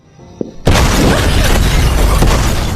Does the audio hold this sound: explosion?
yes